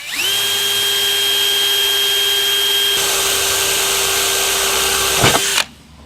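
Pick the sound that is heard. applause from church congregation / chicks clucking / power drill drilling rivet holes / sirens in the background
power drill drilling rivet holes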